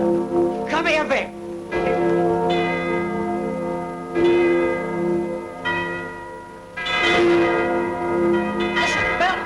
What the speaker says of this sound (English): Listen, bells.